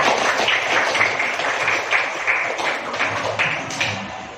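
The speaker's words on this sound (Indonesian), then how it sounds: "Beri tepuk tangan" A group claps steadily for several seconds, a dense patter of applause at moderate volume with no talking.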